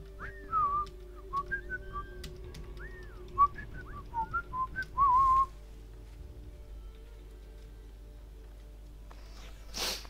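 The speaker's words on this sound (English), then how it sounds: "Nice whistling." Whistling by a character in the PC game Assassin's Creed 3, a clear close melodic tune of short rising and falling notes over quiet ambience, ending after about five seconds.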